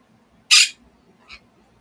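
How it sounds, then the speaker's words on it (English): A bird calls outdoors with one sharp, loud squawk followed a moment later by a shorter, fainter second call, against near silence. "Can you hear that bird?"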